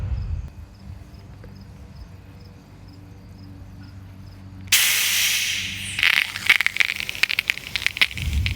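A steady low hum gives way to a sudden loud, broad hiss of liquid weed-and-feed lawn fertilizer spraying from a nozzle, with bursts and sputters as the spray continues.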